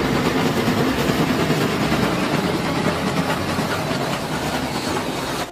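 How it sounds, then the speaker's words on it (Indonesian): A toy train runs along its track with a continuous rattling, clattering roll, loud and close, steady throughout before cutting off at the end, with no talking over it. "di sini ada kereta api."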